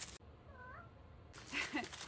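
One soft, drawn-out cat meow rises and falls in a quiet room, followed by close rustling noises.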